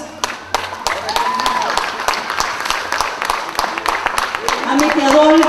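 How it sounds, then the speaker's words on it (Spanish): Wedding guests clap in a hall, a moderate scatter of applause with sharp individual claps. Music and voices continue underneath, and someone speaks over it. "Pido un aplauso por cada uno de ellos."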